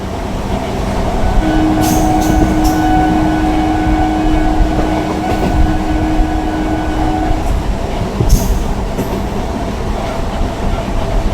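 An Azimganj MEMU train runs on rails near the Kurmitala level crossing toward Berhampore Court, a loud, steady rumble and rattle with a long sustained horn-like tone through the middle.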